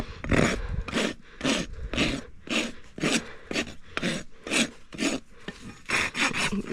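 Repeated rasp strokes across a horse's hoof during a trim for a toe crack, steady rhythmic scraping passes about twice a second, close and fairly loud, with no talk.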